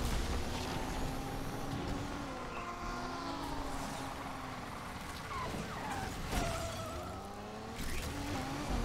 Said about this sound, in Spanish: Primera carrera de derrape con volante, con un DeLorean, primero.